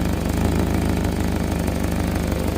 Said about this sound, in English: where's that exhaust leak?